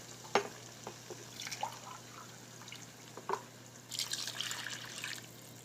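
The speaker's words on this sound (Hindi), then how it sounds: "अब हम इसमें पानी ऐड करेंगे" Water poured into a mutton karahi pan after garlic has been fried, giving faint splashing and trickling with a few drips and a brighter pouring burst near the end, heard alone.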